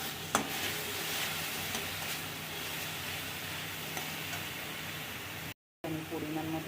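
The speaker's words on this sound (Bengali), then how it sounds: "এটা ভেজে নিচ্ছি।" Ginger, garlic, onion and tomato paste with whole garam masala frying in a pan, a steady faint sizzle with occasional stirring scrapes, broken by a brief dropout near the end.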